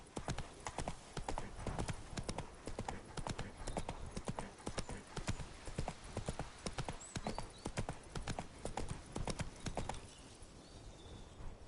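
Roach the horse walking in The Witcher 3, giving a steady run of close hoof clip-clops on hard ground that fades near the end, with faint ambience and no voices.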